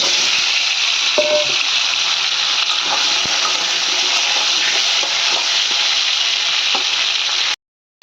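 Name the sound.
potatoes and pointed gourd frying in mustard oil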